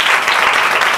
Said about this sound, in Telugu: చప్పట్లు కూడా దేవుని స్తుతి.